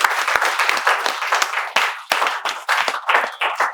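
Steady applause from a group of people welcoming viewers to a spoken English lesson, dense overlapping claps of moderate loudness with brief dips, no voices.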